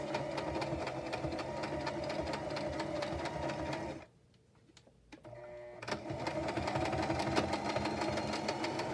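A sewing machine stitches fabric up close with a fast, steady mechanical whirr, stops briefly for a second or two, then runs again in short bursts for a reinforcing back tack.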